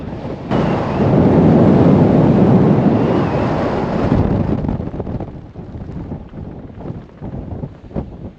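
Strong wind roars across an open hilltop in the Simonside Hills of Northumberland, buffeting the microphone in a loud sustained gust for several seconds before easing into rougher, gusting bursts.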